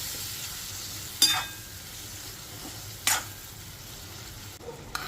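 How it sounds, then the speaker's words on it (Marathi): Prawns frying in oil with garam masala in a pan for an Agri-Koli style curry, a quiet steady sizzle broken by two sharp stirring scrapes, close, with no voices. "ही कोलंबीसुद्धा आपल्याला 2-3 मिनटं तेलामध्ये फ्राय करून घ्यायची आहे"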